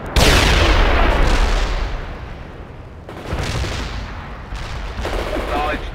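Artillery and gunfire roar in the World in Conflict battle game, a loud opening blast followed by rolling explosions and bursts of rapid fire, dense and sustained, with faint radio-style voices mixed in.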